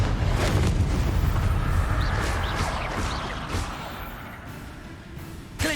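Confringo, an explosive spell cast in the Hogwarts Legacy video game, sets off a loud, dense blast whose deep rumble fills the moment and slowly fades.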